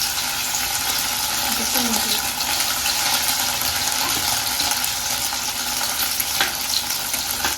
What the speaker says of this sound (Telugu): ఇంకా మామూలుగానే డీప్ ఫ్రై చేసేస్తున్నాడు